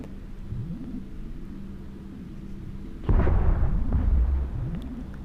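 Revelation capital ship weapons firing in EVE Echoes, fitted with high-angle weapons and pulse crystals, a sudden loud rumbling burst of heavy blasts midway that trails off over a steady low engine hum.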